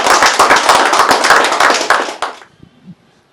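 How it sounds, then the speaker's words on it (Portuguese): Loud, close applause for a government minister, a dense burst of sharp hand claps that stops abruptly, leaving near silence with a few faint knocks. "Merece um aplauso, ministro."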